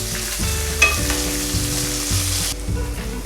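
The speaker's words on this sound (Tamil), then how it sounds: "இப்போ இதை நல்லா வதக்கிக்கலாம்." Onion, green chilli and curry leaves sizzle steadily in a hot pan with oil, with occasional scraping stir sounds, close and continuous with no voices.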